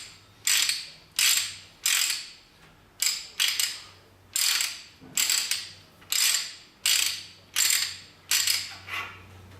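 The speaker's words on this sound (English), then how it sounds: "ratcheting action, and we can wind it back off." An old Garrick hand ratchet pipe threader working on pipe, giving a loud, regular series of about a dozen rasping ratchet clicks, each a short burst of pawl clatter, repeated at an even pace with no speech.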